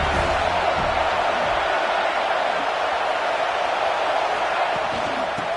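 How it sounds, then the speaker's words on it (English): A steady, dense roar from a college football stadium crowd at a UCLA at USC night game, a continuous wash of massed voices and cheering that stays loud and unbroken throughout. "This crowd bringing the energy and noise early."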